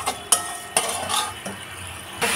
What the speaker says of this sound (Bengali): চিনিটা দেওয়ার পর আবারও একটু কষিয়ে নেব।